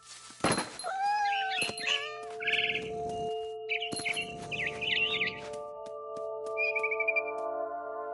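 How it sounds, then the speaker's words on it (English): A cat meows several times in the video game What Remains of Edith Finch, short rising calls over steady tonal game music, with bright bird chirps fluttering in between and trailing off near the end. "I was a cat."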